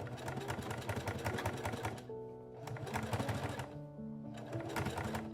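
A sewing machine stitches a corset, running as a close, steady buzzing whir with two brief pauses and shifts in pitch between bursts, with no talking.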